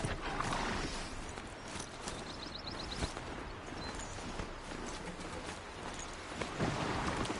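A ridden horse in the video game Horizon Zero Dawn neighs and clops its hooves, with a whinny near the start and another near the end over a steady run of hoofbeats and mechanical game sounds, faint overall with no talk.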